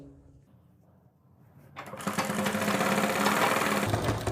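A sewing machine stitches along a fabric edge while making a palazzo, starting after a quiet stretch with faint background sound and then running steadily and loudly to the end.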